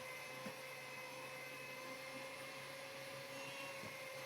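Electric hand mixer whirring steadily through dadar gulung crepe batter, a continuous even motor drone with no break for the full few seconds.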